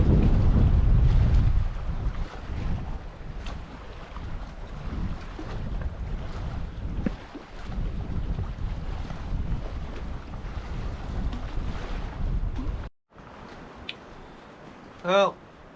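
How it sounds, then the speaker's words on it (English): Strong wind roars over an Adirondack lake during solo canoe pike fishing, buffeting the microphone in loud, steady gusts with a brief dropout and a faint chirp near the end. "That wind is just ripping too hard."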